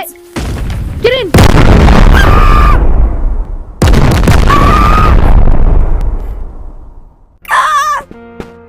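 Two loud, booming blasts from the video game Animal Company roll out over several seconds each. Short squeaky, cartoonish calls come before them, and a jumble of game sounds follows at the end.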